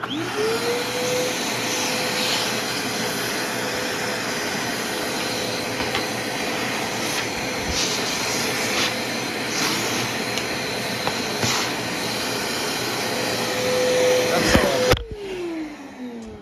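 A vacuum cleaner clears out the bottom bracket of a 1961 Schwinn Racer bicycle, a loud, close, steady whine running unbroken, with small knocks and a rise before the motor winds down and cuts off at the end.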